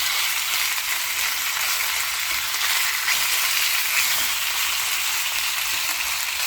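Chicken stir-fry sizzling hard in a hot wok on high heat, a steady, loud, unbroken frying hiss.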